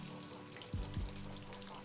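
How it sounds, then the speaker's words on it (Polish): Breaded chicken pieces frying slowly in oil cooled to 150 degrees, a steady close sizzle with two brief louder bubbling pops partway through. "Temperatura spadła do 150 stopni i pomalutku będą się teraz smażyły."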